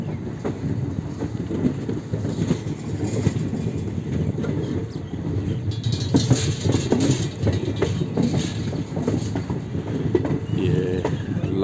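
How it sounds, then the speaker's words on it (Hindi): A train rumbles at Khajuraho railway station, a steady loud mechanical roar with rattling and clanking throughout, brightening with screeching and hissing midway. "खजुराहो रेलवे स्टेशन आ चुका है।"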